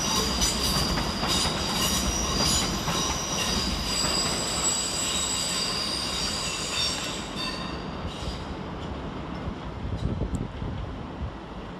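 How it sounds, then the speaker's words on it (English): Pair of Great Western Railway class 387 electric units departing London Paddington on the far side, a steady loud rumble of wheels with high squealing tones from the rails that fades slightly toward the end. "Departed over on the far side is 387 153 and 387 164 with the 1650 Great Western Railway service to Sidcup Parkway."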